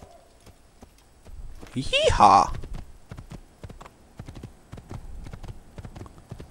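A horse gallops in the Assassin's Creed video game, its hoofbeats clip-clopping in a steady rhythm throughout, with someone shouting briefly over it near the start.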